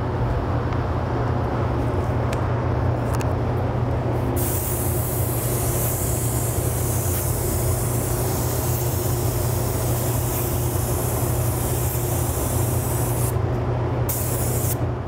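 A spray gun lays down a second coat of auto graphics paint over an existing vehicle finish, giving a steady, loud, continuous hiss that runs unbroken for the whole stretch with no talking.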